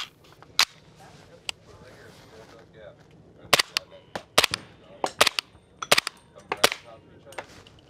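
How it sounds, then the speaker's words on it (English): Suppressed SIG MCX Rattler rifle firing 300 Blackout at an outdoor expo range, with a single shot followed by a string of sharp, fairly loud cracks in irregular rhythm. Faint background voices murmur between the shots. "Let's shoot some 300 blackout suppressed."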